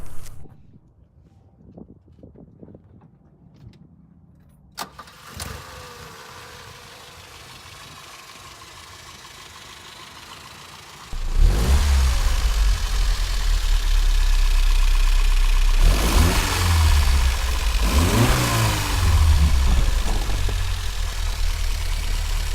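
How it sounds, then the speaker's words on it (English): A 1971 Lancia Fulvia starts up after quiet cabin sounds, settling into a steady idle, then a loud close engine drone with two sharp revs rising and falling. "Why don't I go ahead and start it up?"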